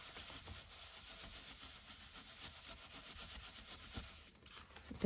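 Kitchen roll being pressed and rubbed over embossed card, a soft, continuous papery rubbing close by and quiet, ending in a brief pause and a light tap.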